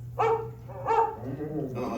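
An animatronic dog barks twice, a short pause between the barks, followed by a softer whine or voice-like sound at the end, in the Carousel of Progress attraction at Magic Kingdom.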